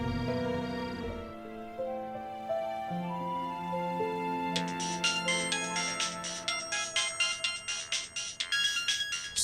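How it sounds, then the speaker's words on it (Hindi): A mobile phone rings with a melodic ringtone that plays for several seconds. Sustained musical tones give way to a brighter, rhythmically pulsing pattern, with no talk over it. "सुमन का फोन।"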